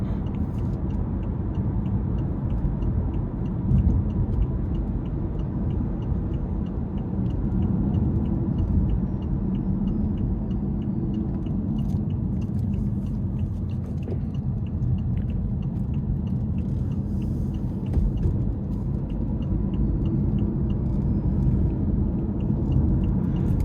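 A 2019 BMW i8 hybrid cruising in Eco Pro mode, heard from inside the cabin as a low steady road and drivetrain rumble, subdued and even throughout, with no talking.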